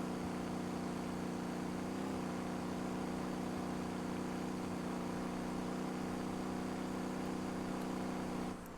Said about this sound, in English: I think this is still the stock engine, of course turbo upgraded, but apart from that, I mean, it's going, and it's going pretty well